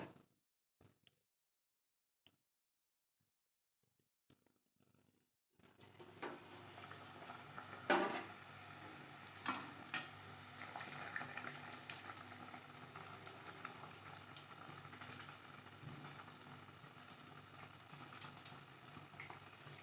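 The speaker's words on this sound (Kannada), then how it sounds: "ಇದನ್ನೀಗ ಬ್ಯಾಟರಲ್ಲಿ ಅದ್ದಿ ಕಾದಿದ ಎಣ್ಣೆಗೆ ಬಿಡ್ತಾ ಇದ್ದೀನಿ" Bread pakoda slices dipped in batter sizzle steadily in hot oil over a medium flame, a continuous frying hiss beginning after several seconds of near silence with a few clinks of utensils.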